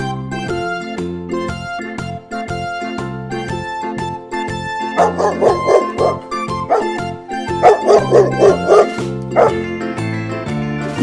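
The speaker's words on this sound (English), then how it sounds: "Dog." Dog barking in a farm-animal setting, several sharp barks in clusters with brief whimpering yips, close and loud over a steady music backing.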